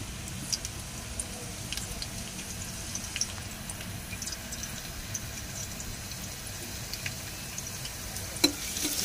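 Finely chopped garlic and ginger frying gently in hot oil, a steady soft sizzle with faint stirring scrapes running throughout at moderate, even loudness, with no talking.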